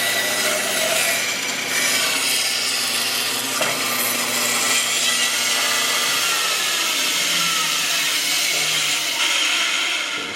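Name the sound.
bandsaw cutting a wooden circle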